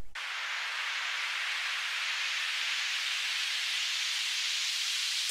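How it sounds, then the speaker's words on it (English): Synthesized white noise sweeps steadily through an automated bandpass filter for an electronic music buildup, a continuous loud hiss that holds evenly and then cuts off abruptly at the end. "white noise, bandpass filter, and then I'm just automating the bandpass to go up"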